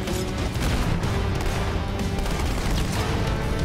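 Grenade explosions and gunfire in a Halo game form a dense, continuous barrage of booms and crashes, loud and close throughout with no clear voices.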